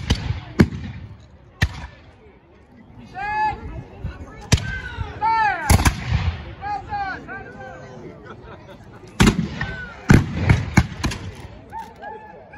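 Musket and cannon fire at a French and Indian War reenactment: several sharp, loud reports spaced irregularly, with a crowd chattering and children's voices rising between the shots outdoors.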